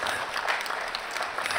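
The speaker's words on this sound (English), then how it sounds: "Let's give them a round of applause." Audience applause at a high school sophomore academic letter ceremony honoring students, a steady dense wash of clapping filling the whole short stretch at moderate level with no talk over it.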